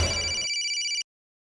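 A telephone rings at night in a short electronic burst, a steady trilling tone that is moderately loud and alone, then cuts off abruptly into silence.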